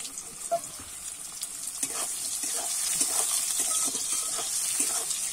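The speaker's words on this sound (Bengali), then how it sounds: "ওই তেলেতেই এবার সোয়াবিনগুলো ভেজে নেব।" Squeezed-out soybean chunks fry in hot oil left from browning potatoes, a steady, fairly quiet sizzle and hiss with small crackles and pops scattered throughout.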